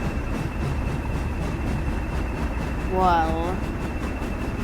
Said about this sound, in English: So we've just made that train go, and we've waited for this diesel.